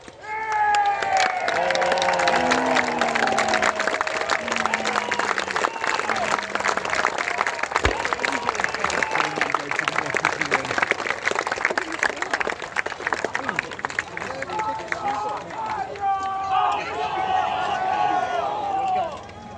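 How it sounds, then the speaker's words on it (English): A large outdoor crowd at a medieval festival applauds and cheers the reenactors of the Battle of Tewkesbury, sustained loud clapping with scattered shouts and voices layered throughout. "Can we have a round of applause, please, for the reenactors of the Battle of Tewkesbury?"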